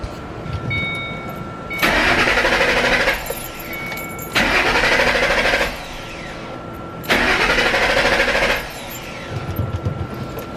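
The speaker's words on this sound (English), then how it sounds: "make sure you turn on the car about 5 times. Make sure it doesn't turn on, or if it does, just make sure it dies off" Three separate bursts of starter cranking on a 2005–2009 Ford Mustang GT during a fuel filter replacement, each lasting a second or two with the engine not catching. A quieter hum and clicks fill the pauses between them.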